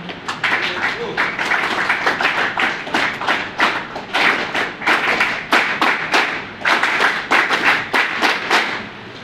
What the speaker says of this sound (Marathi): एकदा एनसीसी साठी जोरदार टाळ्या आपण वाजूया.